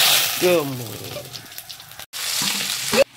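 Mustard seeds crackle and sizzle in hot oil in short bright bursts broken by a brief gap, while a voice speaks over the start.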